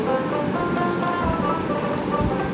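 A mixer grinder whirring steadily while it grinds white rose apples with salt and lemon juice, a loud, continuous close-up roar with no pauses.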